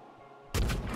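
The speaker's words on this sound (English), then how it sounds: "I can't say no to a grenade shot" Grenade launcher in Nuclear Throne fires once with a sudden loud burst that follows a quiet lead-in and lingers briefly.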